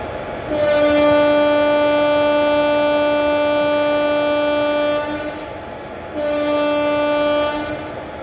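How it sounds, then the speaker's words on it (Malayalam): A loud horn from a Nagercoil–Thiruvananthapuram North LHB passenger train departing blares in a long sustained blast, pauses briefly, then sounds again over a steady rail rumble. "നാഗർകോവിൽ തിരുവനന്തപുരം നോർത്ത് പാസഞ്ചർ വണ്ടി ഇവിടെ പുറപ്പെടുകയാണ്"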